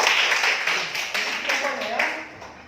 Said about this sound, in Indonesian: tepuk tangan untuk Roni.